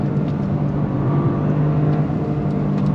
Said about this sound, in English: And the sound of that triple is awesome.